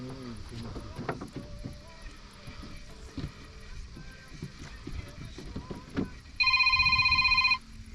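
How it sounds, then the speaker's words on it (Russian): A mobile phone rings with a steady electronic tone partway through, loud and near, over outdoor noise and talk on a spinning-rod fishing trip by the water. "у меня зазвонил телефон"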